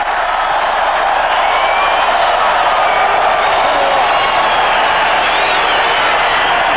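Large stadium crowd at Eden Park applauding during an All Blacks versus Australia Tri-Nations rugby match, a dense, steady wash of clapping and cheering, loud and sustained throughout.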